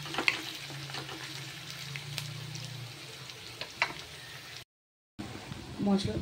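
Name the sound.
onion frying in a wok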